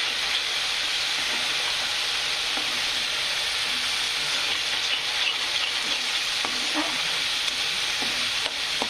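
Spices frying in a hot pan, a loud, dense, continuous sizzle with occasional stirring clicks, steady throughout with no talking.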